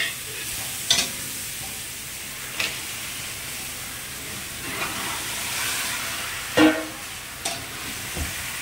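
Chicken for a Bengali hariyali chicken dish being added to a frying pan, giving a steady sizzle with several sharp clattering stirs and scrapes spread through, no talk.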